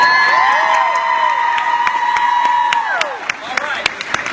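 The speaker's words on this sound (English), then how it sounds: "let's give a big round of applause for their hard work together" A crowd at a Miraculous Ladybug panel at San Diego Comic-Con cheers loudly with high whoops and shouts, and scattered sharp hand claps grow more distinct as the cheering fades.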